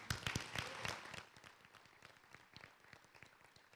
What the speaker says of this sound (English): Please join me in a round of applause to thank them for their work.